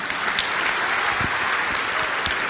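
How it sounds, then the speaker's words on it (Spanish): A church congregation applauding during a Christian sermon, loud dense clapping sustained evenly throughout with a few sharper individual claps standing out. "Un aplauso al Señor."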